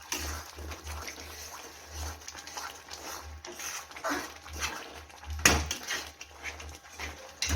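Tomato chutney ingredients being mixed in a pot with a spoon, giving repeated close clinks and scrapes against the metal, including one sharp knock, over a low background hum.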